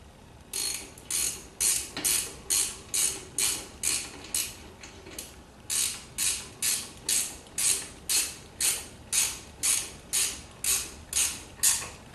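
A ratcheting wrench clicks through about twenty quick, evenly spaced strokes with one short pause while working on the rear brakes of a 2015 Jeep Wrangler. The close, crisp rasps sound alone.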